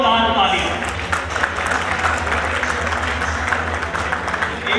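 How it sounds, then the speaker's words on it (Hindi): An audience claps for pageant contestants at a Miss North India event, with a broad wash of applause that holds steady throughout while a loud voice talks over it. "एक बार इस सभी खूबसूरत लड़कियों के लिए जोर दार ताली।"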